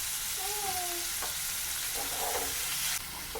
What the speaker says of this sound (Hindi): अब 2 मिनट इसको मैंने भून लिया है।